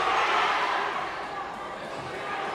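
Crowd noise at a seniors versus faculty school basketball game, a broad steady roar of voices urging a shot, loud and close at first then easing slightly.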